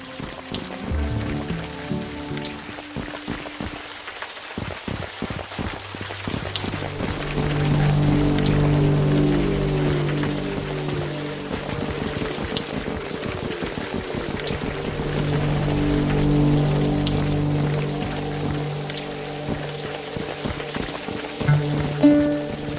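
Steady rain patters in the adventure game Unavowed, a continuous wet hiss over low musical drones, holding at an even level throughout with no talk.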